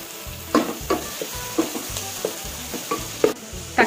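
Chopped onions, tomatoes and slit green chillies sauté in a pan for mutton biryani, with a spatula scraping and turning them in regular, fairly close strokes above a continuous sizzle.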